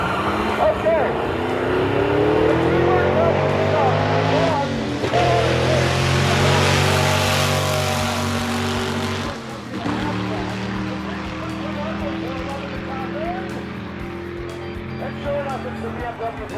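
Drag racing cars, a BMW and a VW, launch down the strip with loud, sustained engine roar that swells and fades over about sixteen seconds, while an announcer talks over it.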